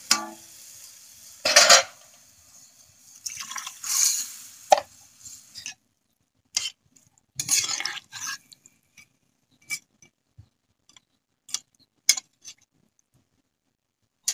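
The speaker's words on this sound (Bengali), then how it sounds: "এখন আরো একটু জল দিয়ে দিব।" Pomfret curry cooking in a pot as water is added, with scattered clinks of utensils against the pot, short stirring scrapes and splashes separated by quiet gaps.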